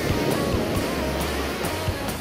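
Ocean surf breaking on a beach in Chiba during a surf-fishing outing, a steady wash of waves with repeated crashing swells, loud and close, with no voices.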